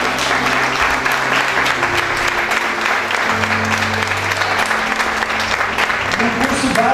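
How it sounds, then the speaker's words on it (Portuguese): A church congregation applauds loudly and continuously, dense clapping filling the room while a voice speaks over it. "Aplauda Jesus, irmão."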